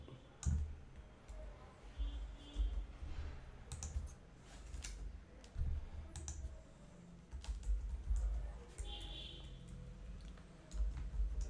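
Python code is typed on a computer keyboard in close, crisp bursts of key clicks and clacks with short pauses between runs. The keystrokes run steadily throughout the recording.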